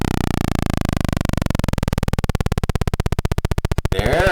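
A thin square-wave synthesizer tone glides steadily downward in pitch until its individual pulses become a buzzing, clicking stutter, then it cuts off into a brief burst of noise at the end.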